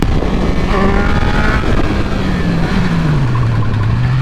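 A 2022 Triumph Speed Triple 1200 motorcycle, ECU-flashed, accelerates hard through the gears with a loud, close engine note that rises, shifts, and settles into a falling drone, with no voices.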